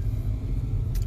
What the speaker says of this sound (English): So we just got into the car